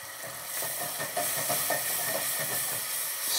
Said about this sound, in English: We're gonna deglaze it all with a little bit of brandy.